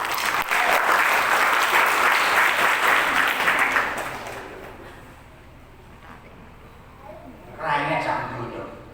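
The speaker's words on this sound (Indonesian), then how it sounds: "Tepuk tangan untuk Indonesia." An audience at an Islamic religious gathering and installation ceremony bursts into loud applause. The clapping holds strong for about four seconds, then fades, and a short burst of cheering returns near the end.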